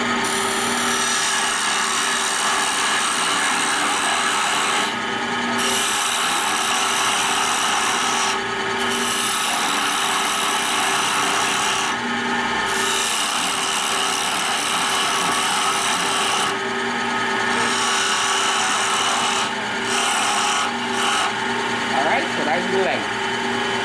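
A chisel pares a wooden handle, thinning its back toward the end: repeated close scraping and shaving strokes with brief pauses between passes, while someone talks over the work.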